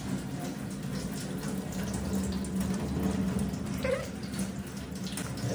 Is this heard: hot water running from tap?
yes